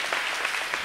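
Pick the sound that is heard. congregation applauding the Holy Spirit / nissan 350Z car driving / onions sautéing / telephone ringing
congregation applauding the Holy Spirit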